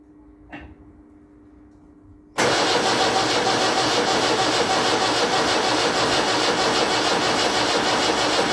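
After a quiet pause with a faint click, a Land Rover Series 3 diesel engine suddenly fires up and settles into a loud, steady clattering idle close by.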